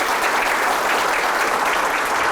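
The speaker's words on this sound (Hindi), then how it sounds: "जोरदार तालियों से स्वागत करिए गुरदास मान साहब का" Enthusiastic audience applause welcoming Gurdas Maan onto the stage, a dense, steady wash of many hands clapping, loud and close, holding evenly for a couple of seconds with no voices over it.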